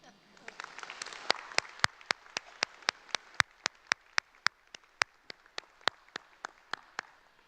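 Graduation ceremony audience applause fades out early, leaving a single nearby pair of hands clapping in a steady, evenly spaced rhythm of sharp claps.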